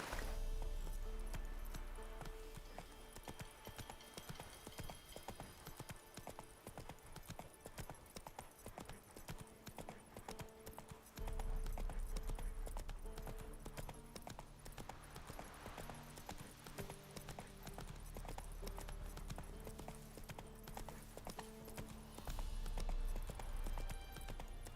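Hooves of Roach, a horse in The Witcher 3, clip-clopping in a steady gallop over a dense game soundscape of music and ambience, a sharp change near the midpoint and the hoofbeats running throughout.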